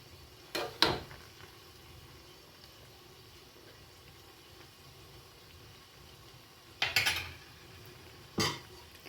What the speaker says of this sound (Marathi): आपल्याला व्यवस्थित पुन्हा मिक्स करून घ्यायचं आहे.